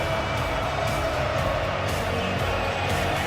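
A steady, dense roar from Argentina supporters filling a 2022 World Cup stadium, a continuous wall of crowd noise with no distinct chants standing out.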